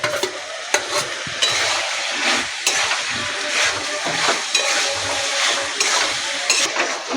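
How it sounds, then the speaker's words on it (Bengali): Cauliflower sizzles and is stirred in hot oil with a spice masala for a Bengali egg curry, a loud, steady frying hiss with repeated scraping strokes of a utensil against the pan. "আমি এবার ফুলকপিটা দিয়ে আর এক মিনিট কষে নেব"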